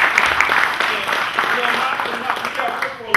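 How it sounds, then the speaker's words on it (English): Applause from an audience at a government retreat, a steady wash of clapping throughout with some speech mixed in underneath, fairly loud and close. "So, let's give them two a round of applause."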